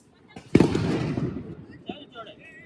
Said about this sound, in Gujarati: આવી ગયો ફટાકડા ફોડવા માટે